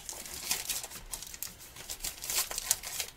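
Crinkly plastic packaging of a paper-craft card kit rustles and crackles in quick, irregular bursts, close by and fairly quiet, with no talking.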